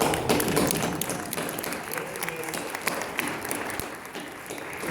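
Applause at a memorial rally held by a political group in Columbus, a dense crowd clapping steadily and close by for several seconds, with scattered voices and cheers mixed into the noise.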